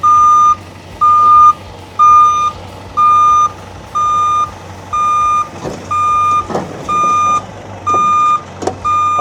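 Steady reversing beeps, about one each second, loud and regular over a low engine hum while a wood chipper is loaded onto a flat deck truck by ramp. A few knocks and clunks come through between the tones.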